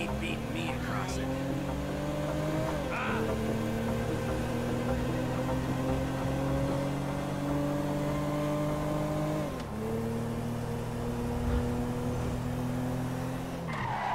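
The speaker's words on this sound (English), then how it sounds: "Of course this would turn into a car chase." Car engines roar through a police car chase in Grand Theft Auto V, a loud, continuous drone that rises and drops with gear changes, with tires skidding and squealing over the top.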